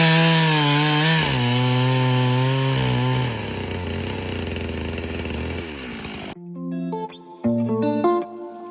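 A chainsaw cuts poplar firewood outdoors: a loud, close engine roar bogs and rises as the chain bites, then drops to a lighter idle and sputtering revs near the end.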